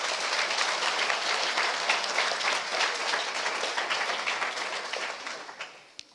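Sustained audience applause fills a panel event hall on a criminal justice and women in law program, a dense wash of many hands clapping steadily at close range before tapering off near the end.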